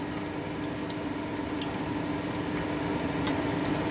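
Bottle gourd koftas sizzle in very hot oil, a soft, steady bubbling and crackle with faint ticks of spattering, heard close and without talk.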